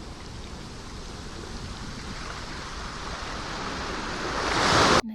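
Ocean waves wash in a steady broadband rush of surf that slowly swells louder toward a breaking crest near the end, with no voices.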